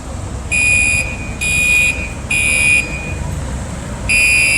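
A fire alarm at a building sounds in four loud, shrill electronic pulses of roughly half a second each, separated by short gaps, over a steady low rumble that may be idling fire trucks nearby.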